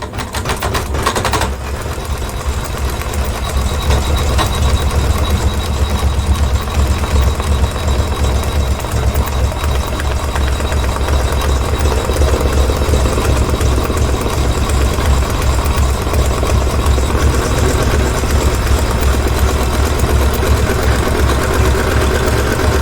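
A computerized embroidery machine stitches a final cork layer onto an in-the-hoop zippered pouch, its needle running in a steady, fast, mechanical drone that holds at an even loudness for the whole stretch with no talk over it.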